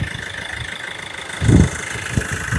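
A used car's engine idles close up at a dealer lot in Tiruchendur, a steady mid-pitched rumble with a few heavier low thumps as it runs unattended.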